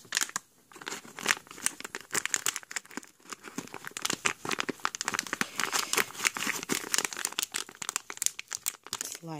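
Crisp plastic crinkling and rustling close up, irregular bursts of handling noise continuing throughout with no talking.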